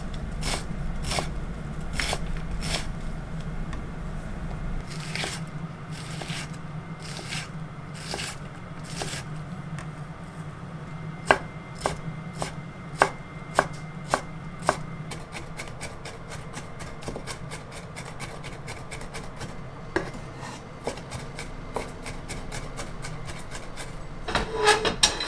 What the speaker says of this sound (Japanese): そして端から刻んでいくとみじん切りになります。